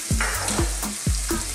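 Spices including cumin, oregano and Scotch bonnet pepper fry in a pan for a spicy broccoli bake, with a close sizzle broken by three quick clattering stirs.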